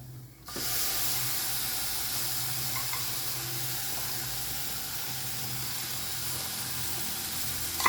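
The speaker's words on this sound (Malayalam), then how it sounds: "ഈ ലോ ഫ്ലെയിമിൽ ഇട്ടിട്ട് ഞാൻ ഈ തക്കാളി രണ്ട് തക്കാളി എടുത്ത് ചോപ്പറിൽ വെച്ച് ചോപ്പ് ചെയ്ത് ഇതിലിട്ട് കൊടുക്കാം" Chopped tomatoes sizzle gently in a pan over a low flame, a steady soft hiss that begins after a brief quiet start and holds evenly throughout with no voices.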